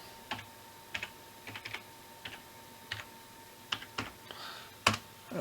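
A password typed on a computer keyboard: about a dozen sparse, separate key clicks in an uneven rhythm, close and fairly quiet in a still room.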